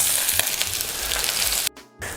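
Chopped onions hit hot oil in a saucepan and sizzle loudly and continuously, then the frying sound drops out abruptly for a moment before resuming.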